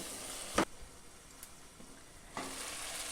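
Potatoes frying with mutton in a pan, a soft sizzle broken by two sharp scraping stirs near the start and end, close and fairly quiet with no voices.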